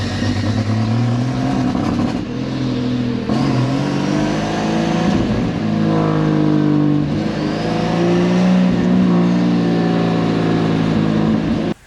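A cheap turbocharged six-cylinder car engine drives off, revving up and shifting through rising pulls, loud and close, running continuously for about twelve seconds with no talk.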